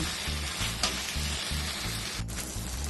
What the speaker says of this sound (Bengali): এবার ইলিশ মাছের মাথাগুলি দিয়ে দেবো, দিয়ে এবার ভালো করে কষিয়ে নেব।